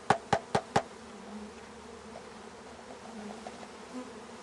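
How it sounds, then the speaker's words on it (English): Honey bees from a package cage buzz in a low steady drone after four quick loud bangs on the cage at the start, with faint scattered buzzes continuing alone. "I'm going to bang on this cage a little bit so I can get all the bees."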